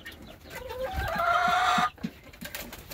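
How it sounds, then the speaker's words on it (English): Chicks clucking and calling in a short burst, a fairly loud run of bird calls in the middle with softer fowl sounds before and after, no talking. "I forgot to show you my little chicks"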